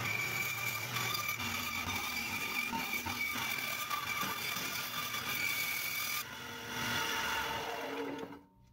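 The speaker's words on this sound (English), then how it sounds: "then I cut these ends at the bandsaw to miter the pieces together" A bandsaw cuts miters on the ends of 2x6 wood pieces, a continuous loud whirring mechanical drone with a shift in tone partway through before it winds down and cuts off at the end.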